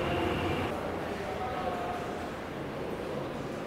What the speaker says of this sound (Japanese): 21時30分、4本目の臨時列車中津駅が到着です